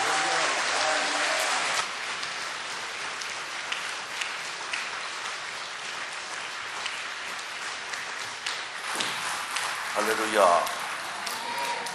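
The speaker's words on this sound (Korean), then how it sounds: "우리 큰 박수로 주신 은혜 감사하다고, 오늘도 또한 기대한다고 큰 박수로 목사님 맞이하겠습니다." Many hands clap in a sustained, dense round of applause from a church congregation at an autumn revival service. It carries on steadily while a voice speaks briefly near the end.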